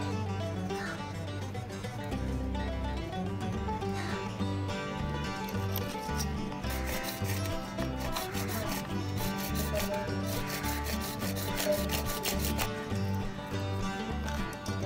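A pipe held in a clamp is cut by hand for a foldable clothes-drying rack, making a continuous rhythmic rasping and sawing sound, close and steady throughout.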